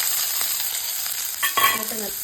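Onions sizzle steadily in hot oil with cumin, fennel and slit green chillies for egg drop curry, with a brief clatter of stirring near the end; no voices.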